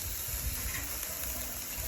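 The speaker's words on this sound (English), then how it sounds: "And you hear that sizzle? That's what you want to hear when you're grilling." Pork chops sizzle on a hot charcoal grill with a steady, dense hiss and crackle that stays constant throughout, with no voices.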